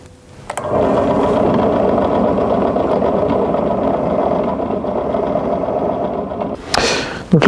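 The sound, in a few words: drill boring a hole in a folding knife handle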